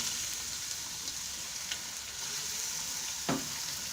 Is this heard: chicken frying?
yes